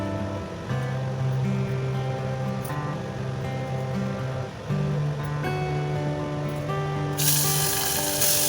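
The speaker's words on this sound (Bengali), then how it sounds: "এবার মাছগুলো আমি তেলের মধ্যে ছেড়ে দিয়েছি, লাল লাল করে ভেজে তুলব" Tangra fish fry in hot oil with a steady, bright sizzle and crackle that holds throughout, overlaid by sustained humming tones and a sharp burst of hiss near the end.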